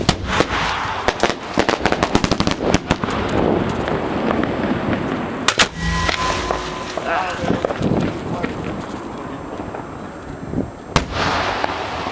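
Fireworks show set off by a pyro crew at Port Orchard in 2013, loud booming bursts and sharp crackles in rapid clusters, close by, with people talking in between.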